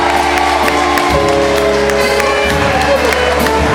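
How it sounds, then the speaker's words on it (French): Sustained applause from an audience at a carnival queen election in southern Martinique, greeting candidate Christine; steady dense clapping with crowd noise, loud and continuous throughout. "je vais vous demander de renouveler vos applaudissements pour elle"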